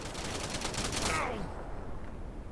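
Rapid bursts of gunfire from soldiers shooting in SpaceBourne 2 rattle densely over a loud noisy backdrop, fading out after a second and a half into a rough background wash.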